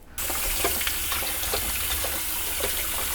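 Stale loaf of bread held under a running kitchen sink tap, a steady gush of water splashing and flowing for several seconds.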